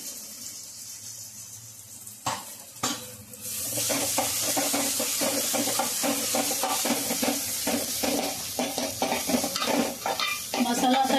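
Agri-Koli masala sizzles in hot oil with onion and tomato for a prawn curry, after a couple of sharp knocks, then a spoon stirs it in a steady scraping rhythm over a continuous close frying hiss.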